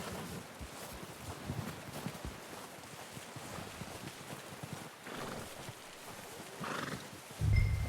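A horse in the Red Dead Redemption 2 video game snorts and neighs amid soft clip-clopping hooves and ambient outdoor wind, mostly faint with a louder whinny near the end.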